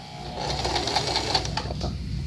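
Home sewing machine running steadily as it stitches along the edge of fabric, a continuous close mechanical whir with fine rhythmic needle clatter, no voice over it.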